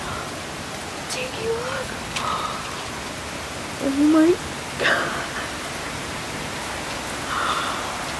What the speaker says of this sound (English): it just started downpouring